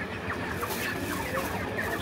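Many poultry chickens on a farm cluck and chatter continuously in a dense, steady murmur, fairly faint with no single bird standing out.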